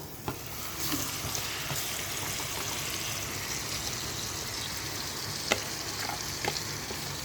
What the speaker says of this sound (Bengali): একে একে সমস্ত মাংসটা আমি ঢেলে দিচ্ছি